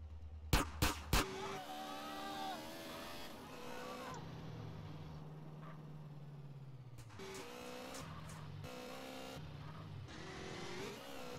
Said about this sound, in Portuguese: Vou pegar minha moto e vou pegar daqui.